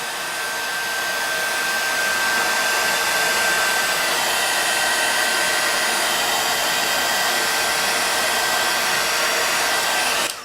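A hair dryer blowing on wet paint on an altered magnifying glass craft project, a loud steady whirring roar running without a break for about ten seconds and cutting off at the end, with no talking.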